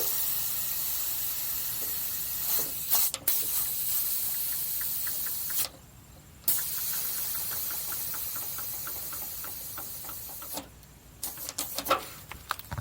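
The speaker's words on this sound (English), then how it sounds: "I have to deflate my airbags." Air hisses steadily out of deflating truck air springs, a continuous broadband rush that runs for several seconds, cuts off briefly, resumes, then breaks into short spurts near the end, close and fairly loud.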